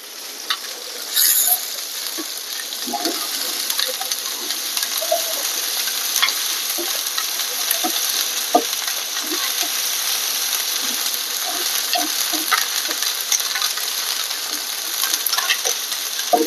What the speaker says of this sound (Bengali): মাছটা এখন ভুনা করে নিতে আসি। একটু আদা দিলাম, একটু রসুন দিলাম